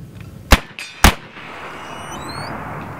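A BIN TAC S45 semi-automatic air rifle fires two sharp, loud cracks about half a second apart, followed by a quieter mechanical whir and ringing tones.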